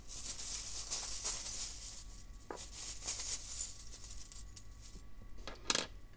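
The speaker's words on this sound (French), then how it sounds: "je vais les remuer parce que j'ai tendance à oublier de les remuer." Small metal oracle charms rattle and clink together as they are shaken, a continuous jingling with a few sharper chinks, close and moderately loud with no speech.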